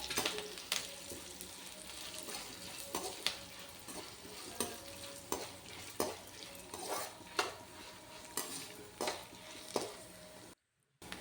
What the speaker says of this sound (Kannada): ಈಗ ಕೊತ್ತಂಬರಿ, ಉದ್ದಿನಬೇಳೆ, ಸಾಸಿವೆ ಎಲ್ಲ ಹಾಕಿ ಚೆನ್ನಾಗಿ ಫ್ರೈ ಮಾಡಿ.